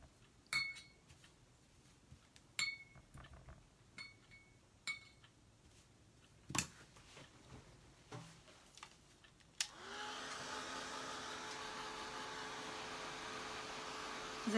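Hair dryer switches on after scattered clinks of brush and paint jars, then blows a steady, moderately loud whooshing hum to dry paint on a painted pumpkin, continuing to the end.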